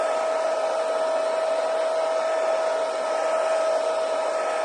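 A heat tool or hair dryer blows on the back of an inked mixed-media tag card, giving a steady, loud, close whirring rush with an even tone that holds unbroken throughout, no voices.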